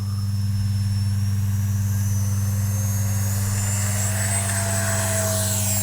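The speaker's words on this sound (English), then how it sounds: "turn around, we'll take off from down there. Take off flaps." Freewing 70mm Vulcan RC jet, a 6S sport model, running up for takeoff: a steady loud ducted-fan whine and roar held throughout with a faint rising pitch toward the end, no talk.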